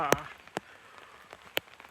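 Soft, steady rain patters on a hilltop under a few sharp, separate taps, like drops striking a nearby surface.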